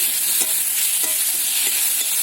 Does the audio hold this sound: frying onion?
yes